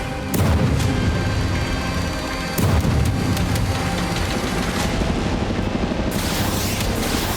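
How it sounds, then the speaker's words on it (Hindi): Explosions from Russian drone attacks on residential areas of Zaporizhzhia: loud, close booms over a continuous roaring, rumbling din, with sharp blasts near the start and again a few seconds in. "यहां रिहायशी इलाकों में ड्रोन से धमाके हुए।"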